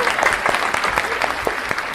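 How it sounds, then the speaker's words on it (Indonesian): An audience of about 5,000 at a Palembang business talk event claps steadily, with dense continuous applause and scattered sharper claps throughout. "Tepuk tangan dulu."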